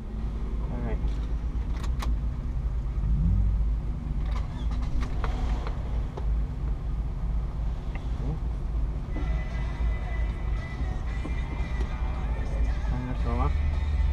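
A Toyota Corolla S driven hard around the Watkins Glen race track, its engine droning steadily from inside the cabin with scattered knocks and rattles while people talk.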